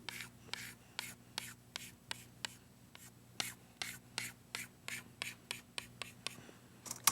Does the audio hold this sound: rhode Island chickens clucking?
no